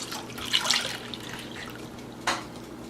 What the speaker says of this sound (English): I'm going to mix the gelatin and the milk into it and give it a light stir